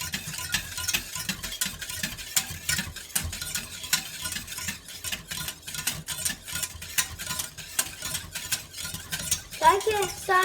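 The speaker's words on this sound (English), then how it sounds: "And keep stirring." Egg nog being stirred in a saucepan makes a quiet, rhythmic series of spoon scrapes and light taps, repeated steadily for the whole stretch, with a soft voice entering briefly near the end.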